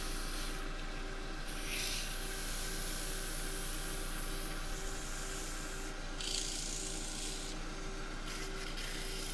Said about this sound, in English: I want to feel the wood grabbing at the abrasive to make it cut properly